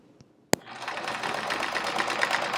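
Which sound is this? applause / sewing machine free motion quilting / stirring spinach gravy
sewing machine free motion quilting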